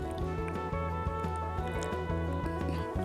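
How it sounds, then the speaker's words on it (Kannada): Ingredients for South Indian bisi bele bath are stirred together in a pot, giving soft wet squelching strokes at a steady rhythm over a constant low background hum. "ಇದನ್ನೆಲ್ಲ ನೀಟಾಗಿ ಮಿಕ್ಸ್ ಮಾಡ್ಕೊಳ್ಳೋಣ"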